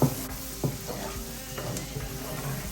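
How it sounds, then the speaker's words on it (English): Shallots sauté in a hot pan, a continuous close sizzle with a few soft stirring scrapes and clicks and no talking. "And I'm just gonna saute for 30 seconds."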